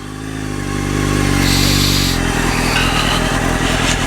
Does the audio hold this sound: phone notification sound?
no